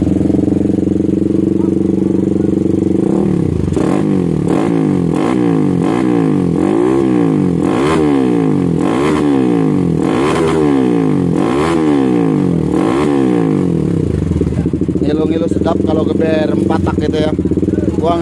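Suzuki Satria FU motorcycle fitted with a racing exhaust, revved repeatedly in loud, rhythmic surges that rise and fall close by, with people talking over it.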